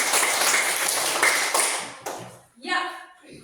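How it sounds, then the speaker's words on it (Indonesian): A classroom of students claps together in a lively burst for about two seconds, then the clapping stops abruptly and a voice begins speaking. "Kita berikan tepuk tangan karena kita sudah"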